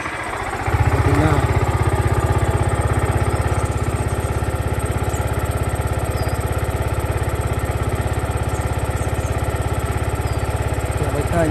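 A Yamaha MT-15 motorcycle engine cranks and catches after a brief moment, then idles steadily with a close, even, throbbing rumble.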